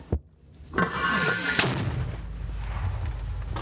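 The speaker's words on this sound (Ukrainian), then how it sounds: "Постріл! Уші закривай." A sharp, loud artillery shot cracks out in the embattled town of Toretsk, Ukraine, followed by a long rumbling boom and echo that rolls on for several seconds.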